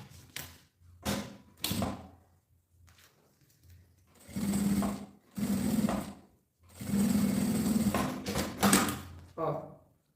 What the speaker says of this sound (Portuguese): E passo uma costura bem na beiradinha, só pra segurar aqui.